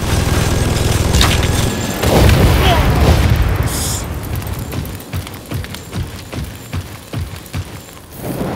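A grenade explodes in the shooter game Second Extinction with a loud, booming blast early on, followed by rumbling debris and scattered gunfire-like thuds in a busy, noisy battle.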